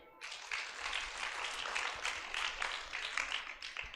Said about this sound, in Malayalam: ഒരു കയ്യടി കൊടുക്കുക